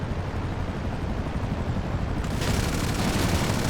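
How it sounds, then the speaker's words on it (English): Rapid video game gunfire from a VTOL aircraft shooting at enemy planes forms a dense, continuous roar of automatic fire over engine noise, growing harsher partway through. "We should probably shoot these guys down."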